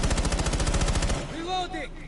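Rapid automatic gunfire from a PS4 shooter hammers out in a fast, loud burst for about a second, then stops, leaving faint tonal game effects.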